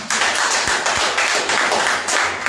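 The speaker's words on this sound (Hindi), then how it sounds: "एक बार फिर से ताली हो जाए।" Audience at a Hindi poetry recital in Aurangabad, Bihar claps steadily, a dense patter of many hands filling the room, fairly close and continuous throughout.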